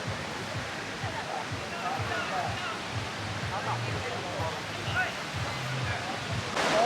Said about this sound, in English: Again we are back to the beach.